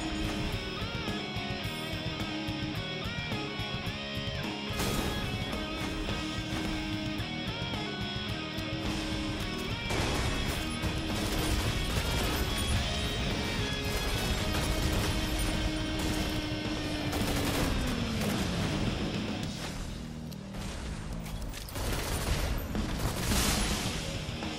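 Repeated gunfire bursts with crashing impacts from combat in the Elyon video game, loud and dense, with a falling whoosh partway through and no talk.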